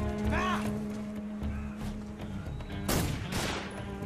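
Gunfire in the video game Metal Gear Solid 3, with bursts of shots and clattering effects mixed over steady game music, loudest in a sharp flurry near the end.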